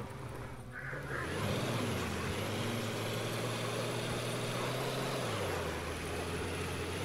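Truck engine rumbling steadily in a trucking video game set in a wild swampy place, a loud continuous drone with a pitch shift partway through, no talk.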